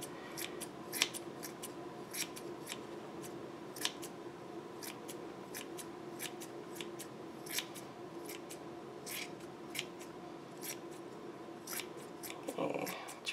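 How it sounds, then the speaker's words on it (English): Steady, quiet snipping of scissors trimming a yarn pom pom into a round shape, with many quick crisp cuts at an irregular pace and nothing else in the background. "Just keep trimming till you get it as round and as clean as you would like."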